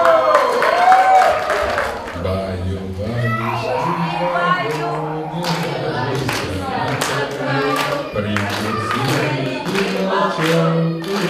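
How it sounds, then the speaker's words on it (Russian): An audience claps along at a children's show with music, rhythmic clapping mixed with a song and children's voices throughout. "Аплодисменты!"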